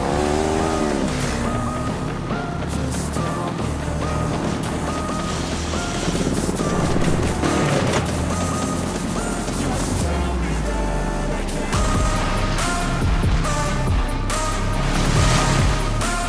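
A homemade race car built from scrap drives across a flat field, its engine a loud, continuous roar that rises and falls in pitch for the whole stretch.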